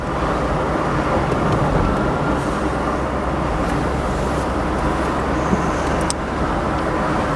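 Steady, loud road noise and engine drone from a car driving through the northern Galilee past olive groves, continuous with no breaks.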